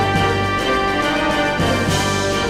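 Music from Final Fantasy VIII in its PS4 version, a full orchestral-style video game music cue with dense sustained strings and steady accents, loud and continuous for a brief stretch without any talking.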